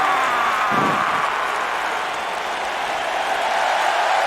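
A crowd claps and cheers in the WWE 2K19 wrestling video game, a dense, loud, continuous wash of applause that holds steady throughout.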